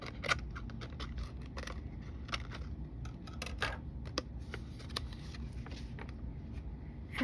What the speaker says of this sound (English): instead of sending the whole sheet, you just give it a quick little snip